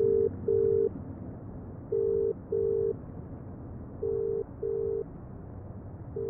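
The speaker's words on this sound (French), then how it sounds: "Le tut-tut du téléphone est tout aussi ahuri que moi." A telephone busy signal repeats after a hang-up, loud, evenly pitched beeps in pairs with short gaps between them, over a low background rumble and no voices.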